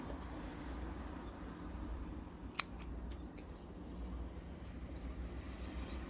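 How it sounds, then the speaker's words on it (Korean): A few crisp scissor snips in quick succession trimming geranium stems and yellowed leaves, one sharp cut followed by lighter clicks, over a low steady background hum. "이 가위질 소리가 상당히 경쾌하고 좋습니다."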